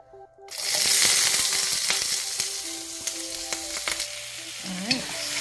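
Vegetables hit hot oil in a very hot wok and burst into loud, crackling sizzling that settles into a steady frying hiss with occasional stirring clatter.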